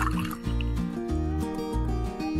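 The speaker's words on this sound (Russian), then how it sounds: "Заливаем все это дело горячительным. В данной ситуации это самогон 45 градусов." Moonshine at 45 degrees poured into a jar of liqueur ingredients, a continuous liquid trickle and gurgle with small splashing pulses, close and fairly quiet, without speech.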